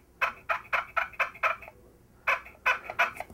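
A spring-operated box turkey call, rain-resistant and simple to work, gives loud turkey-gobble imitations: six quick rattling bursts, a short pause, then five more, close and alone.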